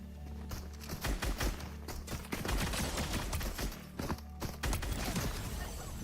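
Rapid gunfire aimed at the player in a video game, crackling bursts of shots repeating over several seconds, loud and close, with some hoof-like clatter mixed in.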